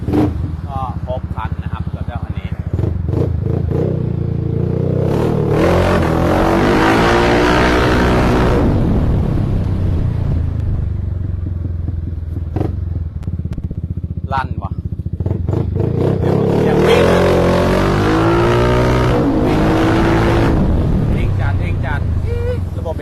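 A Yamaha X-Max scooter fitted with an aftermarket exhaust accelerates hard, its engine note rising in two long revving pulls with a lull between, loud and close, while someone talks over it.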